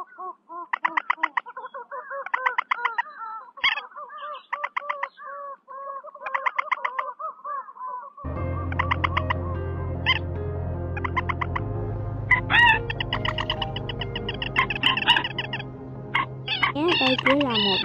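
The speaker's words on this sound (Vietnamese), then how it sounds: "Đây chỉ là một đoạn ngắn trong tiếng chim chuẩn đầy đủ và cập nhật mới nhất để đi bẫy" Recorded bird calls used as lures for trapping moorhen, teal and coot: repeated harsh, clucking call phrases in quick bursts, then a denser, louder stretch of overlapping calls over a steady low hum.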